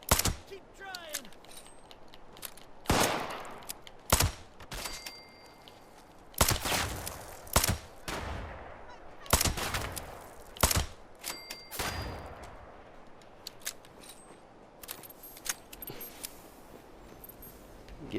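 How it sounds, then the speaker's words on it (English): Enemy gunfire in the game Fallout 76, scattered sharp shots and short bursts at irregular intervals over a quiet background, some near and loud and others fainter, with occasional footsteps and thuds between them. "they're already shooting at me"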